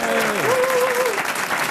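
A French television studio audience applauding, steady dense clapping throughout, loud and close, with a presenter's voice over it.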